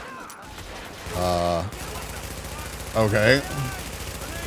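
Gunfire in The Division crackles in rapid bursts through the background, with two short spoken phrases breaking in over it.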